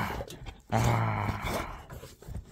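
A dog growls low and close for about a second, a rumbling snarl rising out of quieter shuffling, set in a camper-van sealing job.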